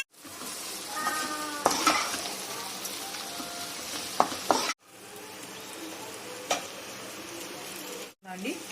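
Ivy gourd (tindora) and coconut curry frying and being stirred in a pan, with a steady close sizzle, occasional louder scrapes and two brief breaks in the sound.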